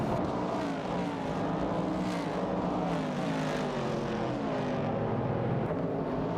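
Race cars including a Ford Falcon and a Dodge Challenger roar continuously in a racing video game, several engines droning together at a steady moderate level with shifting pitches, no voices.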